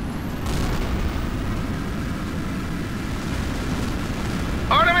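Jet aircraft in the H.A.W.X. combat flight game attacking a U.S. naval battle group, heard as a steady, loud broadband engine roar with a sharper whining burst near the end.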